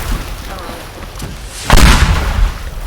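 A single heavy rocket explosion booms in the Teardown video game, rising suddenly after a quieter stretch of low rumble.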